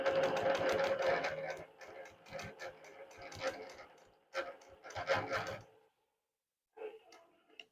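A longarm quilting machine stitching during custom quilting, a steady mechanical whir and ticking that starts and stops in stretches, with a person talking quietly alongside.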